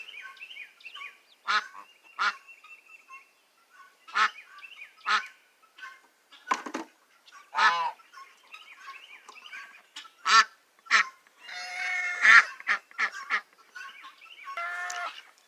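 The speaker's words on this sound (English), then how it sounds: "I definitely think that the Papa Goose there thinks he's the daddy." A goose honks loudly in a barnyard, with ducks and ducklings nearby. Sharp honks come in irregular bursts with quiet gaps between them, and a longer cluster of calls follows near the end. No one speaks.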